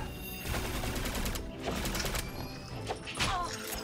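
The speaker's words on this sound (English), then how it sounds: "Weapons hot. Take aim and shoot to kill." Weapons fire in the PS4 game Alienation: rapid bursts of gunshots crackle and pop in uneven clusters, with a few sharper cracks standing out near the end against a busy game soundscape.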